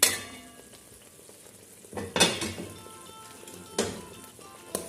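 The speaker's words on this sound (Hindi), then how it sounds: "अब हम इसको मसाले को अच्छी तरह से भून लेंगे" Masala for a chicken kofta curry fries in oil with a low, steady sizzle, broken by several sharp scrapes and clanks of a spoon stirring against the pan, close and loud.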